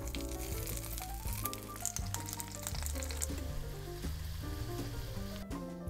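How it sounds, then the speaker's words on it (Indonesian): Pak choi stir-frying in kimchi broth, a steady close sizzle and crackle of frying with scraping stir sounds over the pan throughout, no talking. "Akhirnya pakcoy gue mau gue masak cah. Kebetulan lagi ada kuah kimchi di lab, jadi gue tinggal campur dan masak aja."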